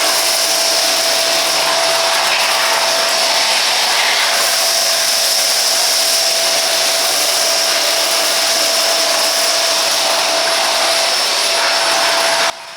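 A Philips 1000 Series XB1112/10 bagless vacuum cleaner runs steadily at close range, a loud continuous whine with a high motor tone, cutting off right at the end.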